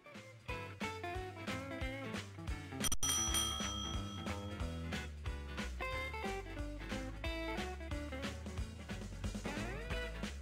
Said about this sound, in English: Now, ring the bell to send it out.